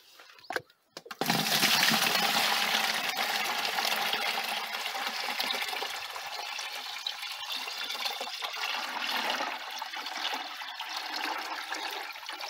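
Urine liquid fertilizer pours onto a kabocha squash field in a steady, rushing stream that starts abruptly after a brief clunk and continues at fairly even strength, easing slightly later on, with no voices.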